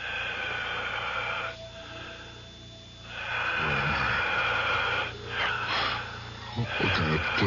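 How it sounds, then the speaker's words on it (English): Heavy, rasping breaths fill a room as a radio drama sound effect, slow wheezing inhales and exhales rising and falling in long waves, close and eerie, with no voices. "It sounds like the whole room is breathing. I can hear it breathing."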